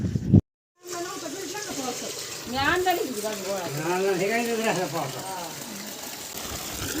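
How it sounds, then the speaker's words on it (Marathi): Water flows steadily in a village stream or channel, a constant rushing hiss that runs the whole time, mostly under voices talking and calling over it. "पाणी किती छान वाहते बघा"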